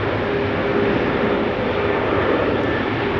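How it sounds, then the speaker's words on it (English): A Boeing 737 takes off at a rainy Amsterdam Schiphol, its engines giving a loud, steady, broad roar that holds without pause. "Another 737 taking off."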